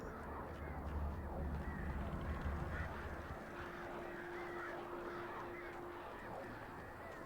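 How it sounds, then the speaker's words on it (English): Birds caw and honk faintly in the video game Alan Wake against a steady ambient hum, calls scattered through a quiet background. "I like all the birds I'm hearing."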